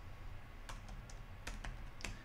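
A computer keyboard is tapped in a few quick, quiet keystrokes, spaced irregularly, heard close against a low background hum.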